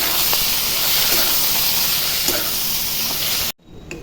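Katla fish fat frying in a pan with salt and turmeric, a loud steady hiss of spattering oil filling the clip before cutting off sharply near the end.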